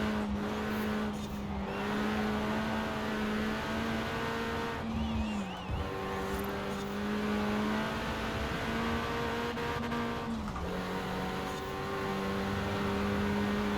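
A Renault Clio R.S. 16 Concept races in Forza Horizon 4. Its engine drones loudly and steadily, dipping at two gear changes, with brief tire squeal and another car nearby.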